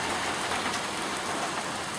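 Heavy rain pours steadily onto surfaces in a side yard, a dense, continuous hiss with no breaks and no voices.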